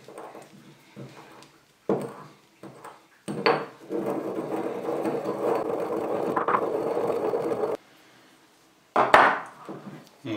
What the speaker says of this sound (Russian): Разотрем их в ступке.